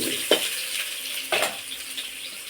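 Cut potatoes dropped into hot mustard oil in a home kitchen, giving two sudden bursts of hissing followed by a steady, moderately loud sizzle with no talking.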